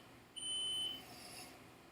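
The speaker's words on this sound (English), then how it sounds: "I hear something going beep, beep, beep in the background." A single shrill electronic beep sounds briefly and faintly in a quiet room, like an appliance timer going off.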